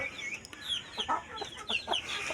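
Chickens, including a rooster, cluck and squawk close by in short, irregular bursts over a low background hum.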